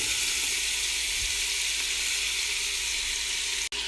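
Diced onion sizzles in butter and oil in a soup pot, a bright steady hiss filling the moment up close, ending with one sharp click near the end.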